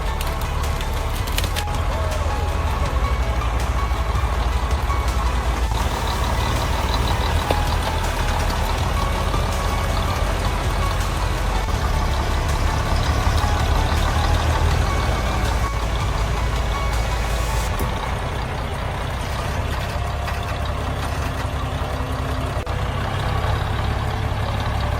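A heavy logging truck grinds along a narrow, uneven mountain road, its engine a continuous loud low drone with wooden creaks and rattles throughout.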